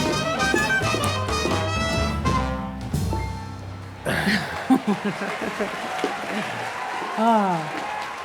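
Live crowd at a concert bursts into applause and scattered cheers as a swing band's music ends, with brief laughter and voices poking through near the close.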